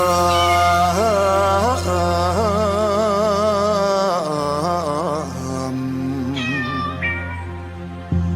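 Loud, drawn-out meows wail one after another, wavering in pitch, close by and with no talking.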